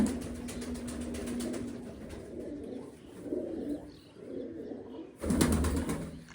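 Pigeons cooing in a loft while birds are being marked with colours, low steady coos with a brief burst of wing flapping near the end, fairly quiet.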